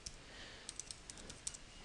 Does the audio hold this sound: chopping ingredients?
no